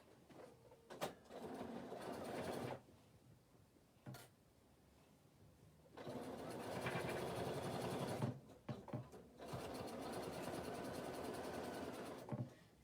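A sewing machine stitching around fabric separators on a work desk, running in long steady whirring bursts with short pauses and soft clicks between runs, close and fairly quiet.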